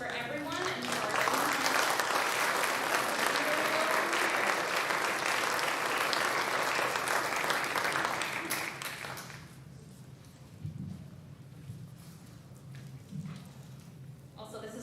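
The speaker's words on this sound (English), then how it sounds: "let's give another hand just for everyone" An audience at the Great American Think-off claps in a dense, loud burst of applause for several seconds, then it fades out and a voice begins speaking.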